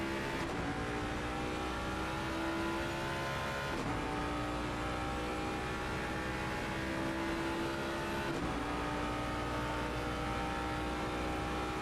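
A GT race car engine in Assetto Corsa Competizione drones steadily at Circuit of the Americas, pitch rising through the gears with quick shift drops along the long back straight, a constant loud mechanical whine with no talk.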